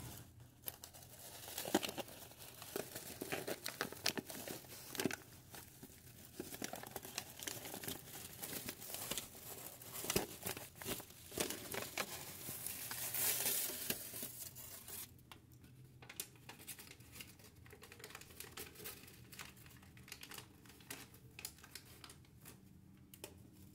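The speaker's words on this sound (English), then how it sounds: "first I'm gonna take out the foils" Foil strips being pulled out of hair at a salon, a close, soft run of crinkling and rustling that goes on irregularly, quieter toward the end, with no talking.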